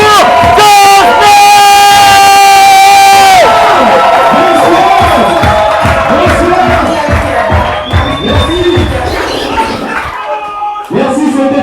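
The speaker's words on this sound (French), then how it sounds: "Est-ce qu'on peut applaudir pour Joe?" A comedy show audience cheers and claps for comedian Joe, loud crowd noise with shouts and whoops over a held musical tone at first, then scattered clapping and voices trailing off.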